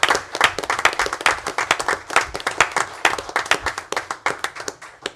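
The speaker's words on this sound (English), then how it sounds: "I think you deserve a round of applause." Audience at a town board meeting breaking into applause, dense overlapping hand claps at close range that keep going steadily without a break, with no talk over them.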